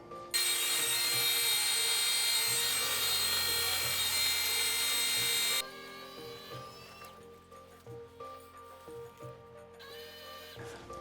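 An electric fuel pump squirts fuel from a drained tank into a pot, giving a loud, close, steady whirring spray that stops abruptly about halfway through. Quieter mechanical rattles and clicks follow, with no talking.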